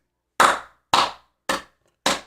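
Four sharp hand claps, spaced evenly about half a second apart, close and loud with no talking, performed as an imitation of a politician's clapping style.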